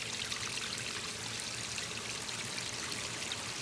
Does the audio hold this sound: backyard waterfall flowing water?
yes